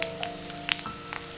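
Curry leaves sizzle and crackle in hot oil while being fried for tender jackfruit pakoda, a steady bubbling hiss broken by a few sharp pops, close up with no talking.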